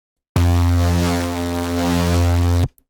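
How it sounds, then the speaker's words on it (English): One loud, buzzy, distorted saw wave bass synth note drones steadily for about two seconds, then cuts off abruptly. "once I add the distortion in on the first phases"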